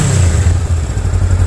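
A 2019 Honda Rebel 500 motorcycle engine runs with a loud, steady, close low rumble and a mechanical clatter, with no pauses.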